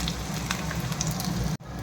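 Chopped onions frying in a pan until reddish-brown, a close, even sizzle and crackle running steadily, briefly cut near the end, with no voices.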